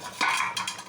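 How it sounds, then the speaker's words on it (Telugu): A lid is lifted off a pot of fish curry (chepala pulusu), a short metallic scrape and clink heard close and alone. "మూత ఓపెన్ చేసి చూద్దామండి"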